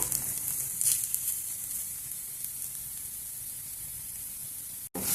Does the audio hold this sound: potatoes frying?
yes